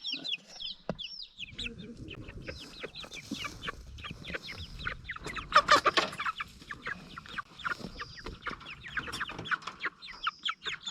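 Week-old chicks peep in a dense, continuous stream of high chirps, close by, with scattered rustling and handling noises underneath.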